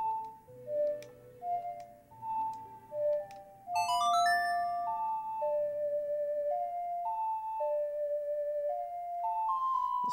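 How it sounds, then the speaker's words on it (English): The Song of Time plays on an ocarina in The Legend of Zelda: Majora's Mask, its slow, clear, pure melody gliding up and down after a few ticking clock-tower sounds at the start. "That's the song of time."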